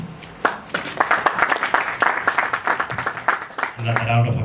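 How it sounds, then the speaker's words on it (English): Audience clapping after a keynote address at a digital education wellness symposium, a burst of dense, close applause that thins into scattered claps before a voice begins speaking at the end. "Another round of applause for the good Daktari."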